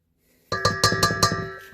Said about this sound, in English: Why do they make metal bowls if you're not supposed to bang on them?